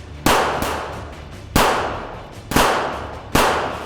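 Gunfire effect in an audio crime drama, four sharp, loud shots spaced about a second apart, each ending in a long decaying echo as if fired in a large space, with no voices.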